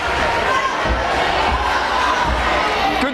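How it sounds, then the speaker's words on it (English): A crowd roars and cheers at a high school volleyball game on a Thursday night, a dense, continuous wall of shouting and chatter. "Good crowd here on a Thursday night,"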